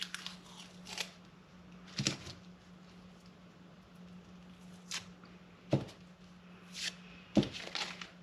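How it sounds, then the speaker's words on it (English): Masking tape is peeled off a freshly enamel-painted part in a workshop: several short, crackly tearing bursts spaced irregularly over a quiet background with a low steady hum. "So let's get this tape off of here."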